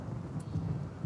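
Thunder and rain in the video game Rimworld during an outdoor fire, a low rumble under soft, steady rainfall in a brief moment with no voices.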